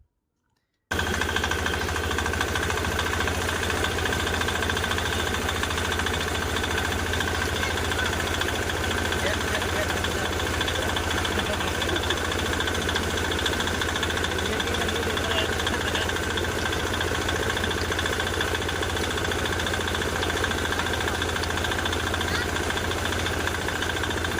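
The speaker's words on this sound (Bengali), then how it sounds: "তো এটা হলো আমরা তুষক বানানি ওর মেশিন দিয়া" A traditional village machine for making tosak mattresses from cotton runs nonstop with a loud, steady mechanical drone and rattling hum. It starts after a brief silence and continues unchanged throughout, with voices faintly audible beneath it.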